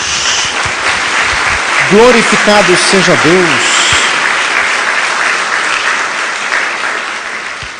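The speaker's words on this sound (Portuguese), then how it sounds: "Dê uma salva de palmas a Jesus." A church congregation gives loud, continuous applause throughout, while a voice speaks over the clapping partway through.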